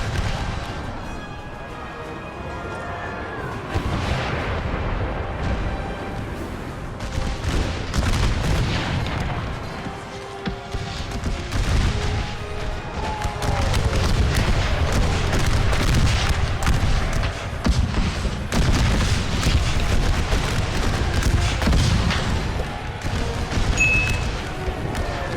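Artillery fire booms repeatedly through the chaos of an American Civil War battle in a hardcore video game, with heavy low thuds and scattered gunfire continuing steadily throughout.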